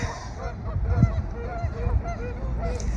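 Geese and ducks honk repeatedly on a windy beach, a scattered series of nasal calls over steady wind noise, moderately close and fairly loud.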